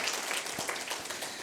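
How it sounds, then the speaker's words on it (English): Audience clapping at an HR awards ceremony, a steady wash of many hands from a seated crowd, moderately quiet and continuous with no talk over it. "Please clap."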